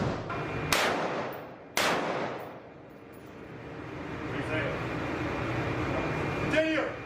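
Two sharp, loud gunshots ring out about a second apart during a U.S. Marines live-fire close-quarters battle drill, each followed by a long echoing decay indoors, then lower rumbling background noise.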